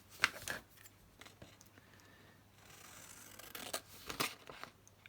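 Scissors snip out a small craft piece, quiet close-up cuts and soft paper crinkles at an uneven pace, with a faint steady hum underneath.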